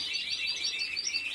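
Birds chirp around a house in a steady, high, faint twitter that runs on without a break, with no voices.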